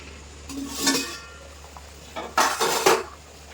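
Metal lid lifted off a cooking pot of simmering hilsa fish, a light clink followed by a louder rattling clatter of metal on metal, close and brief.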